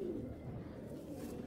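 Low, throaty cooing from a tailless Belgian-breed racing pigeon, one soft murmuring burst heard up close and quiet, alone.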